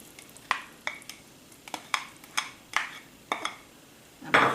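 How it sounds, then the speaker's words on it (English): Corn kernels tipped into a pot of roasted corn and smoked salmon chowder with potato cooking in it, then stirred: about ten sharp spoon-and-pot clacks and scrapes at an uneven pace over a low background sizzle, with no talking. "I'm going to add my corn"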